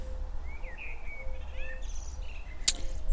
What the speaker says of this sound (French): si vous entendez encore les oiseaux,